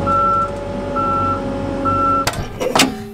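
A Case 580 backhoe sounds repeated reversing beeps, evenly spaced tones over a steady diesel engine, followed by louder clanking and mechanical knocks at the end.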